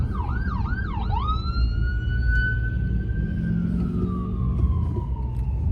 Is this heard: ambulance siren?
yes